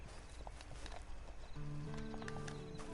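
A horse in Red Dead Redemption 2 clip-clops along at a walk and lets out a clear whinny partway through, close and fairly quiet against a soft game backdrop.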